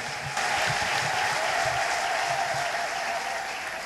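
A church congregation bursts into loud, sustained clapping, a dense wash of hands that starts abruptly and holds steady throughout, with faint voices mixed in beneath.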